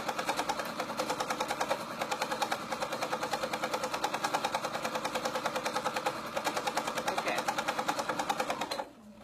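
A sewing machine stitches a skirt in a steady, rapid, even rhythm, loud and close, for several seconds before stopping abruptly near the end.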